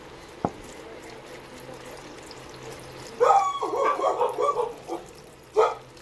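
Dogs in a home kitchen break into a short burst of barking after a single sharp knock, a few loud yaps clustered together then one last bark, over faint background hum.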